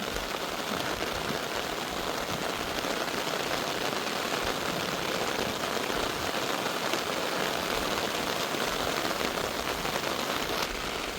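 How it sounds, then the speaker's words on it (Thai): Rain falls steadily during a rainstorm over a Thai rice-farming area, a dense, even hiss of drops on surfaces that stays constant and fairly close for the whole stretch, with no talking. "เป็นน้ำฝน"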